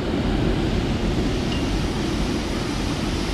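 Water pouring out of Neyyar Dam makes a steady, loud, broadband rush with no breaks, heard close and alone without any voices.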